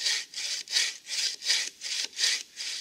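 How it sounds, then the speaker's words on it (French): A hand saw cutting wood in long, even strokes for bushcraft, close and loud, with about seven rasping back-and-forth pulses in a steady rhythm and no talking. "Au moins utiliser toute la longueur de la scie."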